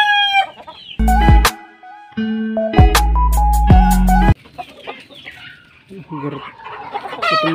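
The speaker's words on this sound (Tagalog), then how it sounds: "Papakain muna tayo mga Katar Brothers sa ating manok." Backyard chickens cluck and squawk loudly and close while being fed, bursts of overlapping calls and a rooster-like cry, with brief pauses and some scattered background noise.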